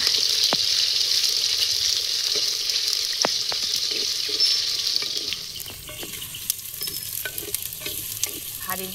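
Onions frying in a clay pot over a village cooking fire, a steady bright sizzle running throughout with occasional stirring clinks and scrapes, no talking.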